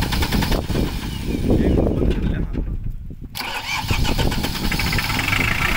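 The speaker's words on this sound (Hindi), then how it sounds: "ट्रैक्टर की साउंड चेक करो" A Kubota farm tractor's diesel engine cranks and catches, running loud and close with a steady mechanical clatter, a brief dip in the middle before it picks back up and keeps chugging.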